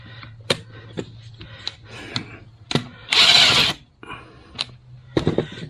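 A hand ratchet and power tool work on bolts of a TYM tractor axle reinforcement kit, sharp clicking bursts separated by pauses with one longer buzzing run in the middle, close and with no talk.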